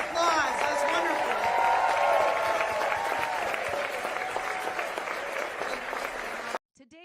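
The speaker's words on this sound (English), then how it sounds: "let's give them another round of applause." Audience at a campaign event applauds and cheers in a dense, sustained burst with voices mixed in, gradually thinning before cutting off abruptly near the end.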